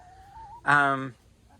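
A single loud, close chicken squawk rings out for about half a second from the flock inside a coop bedded with pine shavings, with quiet stretches before and after.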